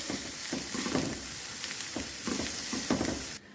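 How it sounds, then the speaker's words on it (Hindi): Onion sautéing in an oil-filled pan for chicken rolls, a steady close sizzle broken by periodic scrapes and taps as a spatula mixes it, stopping abruptly at the end. "इसको दोनों को चीज़ों को हम अच्छी तरह मिक्स करके सौते कर लेंगे"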